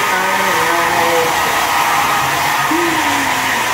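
A hair dryer blows loud and steady at close range, a constant airy whoosh with slight shifts in pitch and no pauses.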